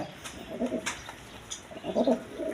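A pair of red checker Rajgolla pigeons coos softly in short, low bursts, with a couple of faint rising swells close by and no voices.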